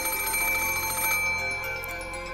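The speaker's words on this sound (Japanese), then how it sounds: "the ring of the phone, which had once sounded like a scream for help" Telephone ringing in the visual novel Umineko no Naku Koro ni, a loud, bright, trilling bell that cuts off about halfway through and leaves softer lingering tones.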